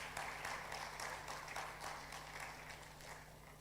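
Audience at a business law conference applauding a panelist, steady dense clapping heard at a distance and fairly faint, lasting throughout.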